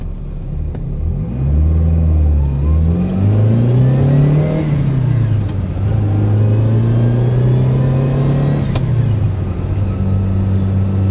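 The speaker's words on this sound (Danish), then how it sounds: "hvordan kører den så, den lille Ferrari" A Ferrari 308 GTB sports car, built 1975 to 1985, drives and accelerates up through the gears, its loud engine note rising and dropping with each shift in a close, continuous roar.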